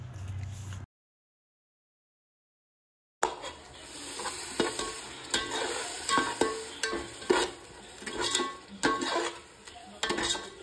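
Spices for chicken pulao fry and get stirred in a pan, with a close sizzle and irregular scraping clinks after a brief silent gap at the start.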